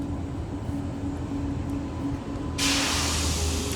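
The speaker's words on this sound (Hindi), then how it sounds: "वो देख रेलगाड़ी आ रहा है।" A train rolls into a station with a continuous low rumble and hiss, then a sudden louder burst of bright rushing noise as it draws close, with no talking.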